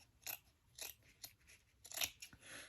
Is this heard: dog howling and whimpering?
no